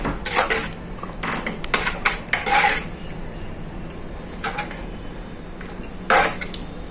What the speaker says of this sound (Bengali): খিচুড়িটা এবার একটু ঘেঁটে দেব